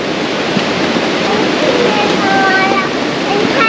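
A steady, dense rush of falling water from a waterfall in Laos during the rainy season fills the whole clip, loud and continuous, with faint tonal whistles drifting through.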